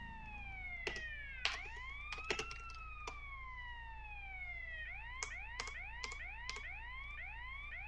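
A police car siren in a video game wails in long rising and falling sweeps, then switches to quicker yelp cycles, fairly faint, with sharp keyboard clicks scattered over it.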